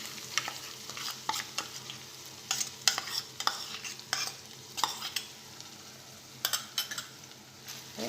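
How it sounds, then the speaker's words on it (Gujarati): A spoon stirs yogurt mixed with spices into a peanut curry in a hot pan, giving close, uneven scraping strokes over a soft, steady sizzle, with short clattering taps against the metal. "હવે આમાં આપણે જે દહીં મિક્સ કરીને રાખેલું મસાલા સાથે એ આપણે એડ કરી દઈશું।"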